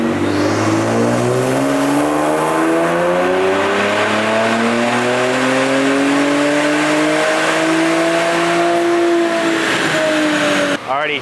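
A tuned Infiniti VR30 engine on a dyno, JB4 map 3 running E30 fuel, revs continuously for about ten seconds with a steadily rising pitch, loud and close, then cuts off abruptly.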